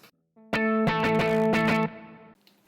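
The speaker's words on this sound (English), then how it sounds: "The next thing I engaged was the compressor and the reverb." An electric guitar through a Kemper profiling amplifier plays a few sustained, evenly compressed notes with a reverb tail that rings out before fading to quiet.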